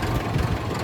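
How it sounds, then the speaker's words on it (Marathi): A tractor engine idling close by, giving a brief, steady low rumble that holds an even level without revving. "मी चाललोय आता ट्रॅक्टर घेऊन."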